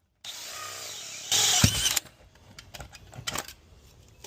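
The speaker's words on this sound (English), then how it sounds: "simply drill from the inside out with the appropriate drill bit" A power drill whines steadily, then surges louder as the bit bites through a wall from the inside out for a drain line, stops abruptly, followed by scattered clicks and handling noises.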